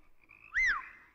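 A toad croaks from a well in an Italian comedy film, one loud rising-and-falling call standing out over a quiet, faintly rumbling background.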